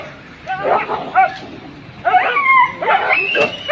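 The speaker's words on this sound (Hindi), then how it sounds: "100 से ज़्यादा कुत्ते हैं" A pack of stray dogs in Delhi yelps and barks in overlapping bursts, close and loud, with whimpering cries mixed into the noisy chorus.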